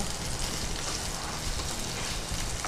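Capsicum frying in a pan gives off a steady, loud sizzle with constant crackling and popping, and no voices are heard.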